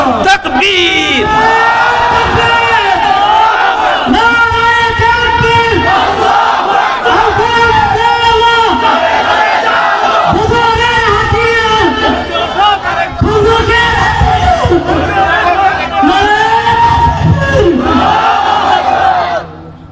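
A large crowd chants takbir (Allahu Akbar) in loud, rhythmic unison, the roaring call repeated over and over in waves, close and dense, at a religious-political gathering.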